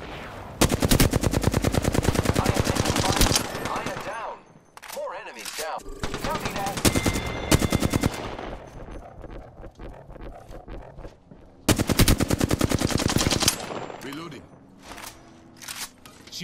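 An Apex Legends firefight: loud bursts of automatic gunfire alternate with single shots and short pauses, and a voice speaks between the volleys.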